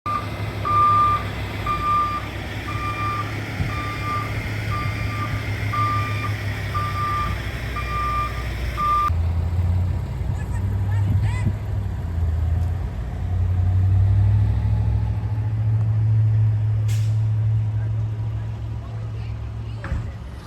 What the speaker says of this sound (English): Today they were getting ready for the big truck that's about to arrive